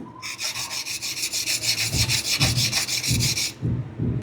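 A chisel being sharpened on a wet stone, with rhythmic back-and-forth gritty scraping strokes, close and loud, that stop near the end while lower rubbing continues.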